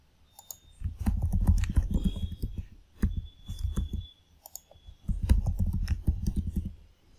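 Rapid clicking of computer keyboard keys as a password is typed, two dense bursts of keystrokes separated by a short pause, close and clear with no talking.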